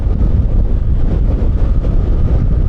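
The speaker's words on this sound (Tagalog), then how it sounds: "So medyo malakas ang hangin." Strong wind buffets the microphone on a riding Fortress 160 motorcycle in a constant low roar, loud and unbroken, with no voices.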